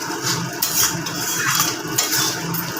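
A spoon scrapes and clanks against a pot while chhole paneer with kasuri methi is stirred and sautéed, giving close, uneven metallic knocks over a soft background sizzle, with no talking.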